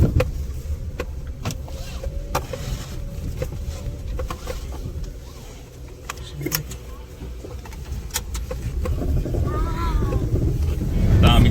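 Car window opened while driving, steady wind rush and road noise filling the cabin, with people talking inside and some clicks and rattles, the rush growing louder toward the end.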